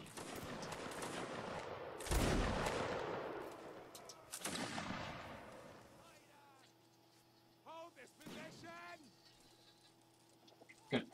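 Musket volley at a Napoleonic line battle reenactment by the 27th Inniskilling: two loud, ragged bursts of massed musket fire crackling outdoors, each trailing off, followed by scattered shouted commands.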